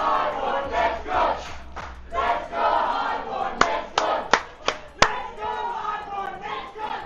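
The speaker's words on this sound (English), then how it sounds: "Obscura, they need to push through that crowd noise." A large esports LAN crowd at a Call of Duty playoff event shouts and cheers continuously, punctuated midway by a handful of sharp claps or bangs.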